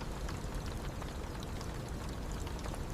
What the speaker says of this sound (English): it is a very rainy night